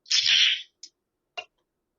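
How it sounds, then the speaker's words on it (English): Rainier tall boy beer can cracked open, a short bright hiss of escaping gas followed by two small metallic clicks, close and alone in a quiet room. "Oh, that was the sound of a can opening."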